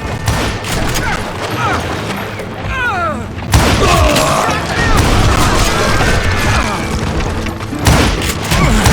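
A chaotic Old West shootout against dozens of deputized shooters, with loud bursts of gunfire and booming crashes layered over shouting and dramatic voices, continuing without a break.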